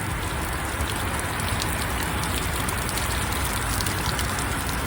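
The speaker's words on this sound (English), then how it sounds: "It's raining on me." Steady rain falls outdoors during a test of packable hunting rain gear, a dense, even patter close by on the surroundings and the jacket, with no talk.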